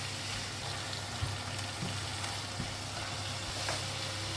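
Vegetables with oyster sauce sizzle steadily in a hot pan of frying egg noodles, a continuous close hiss with a few faint taps of a utensil.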